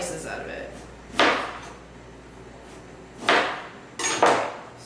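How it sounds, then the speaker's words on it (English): A knife cuts thick slices from a piece of fresh ginger on a board, three or four sharp, close chopping thuds spaced a couple of seconds apart, the last two coming in quick succession. "So you'll take this piece and get some good thick slices out of it."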